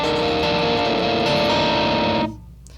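Electric guitar playing a part from Ihop by P.E.E., a dense sustained distorted chord ringing loud and steady for about two seconds, then cut off abruptly into near silence.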